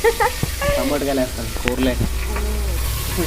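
Vegetables frying in oil, a steady close sizzle with stirring scrapes, heard under someone talking throughout.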